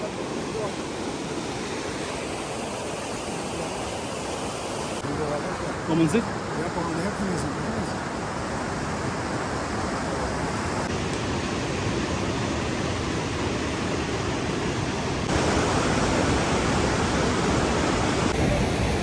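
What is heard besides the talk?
rushing water and waves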